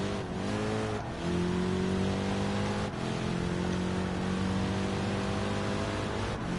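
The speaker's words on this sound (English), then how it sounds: "this car doesn't sound that half bad" A GTD-class race car run by Turner Motorsport in Gran Turismo Sport sustains a loud, continuous engine drone with a brief gear change near the start, no voices over it.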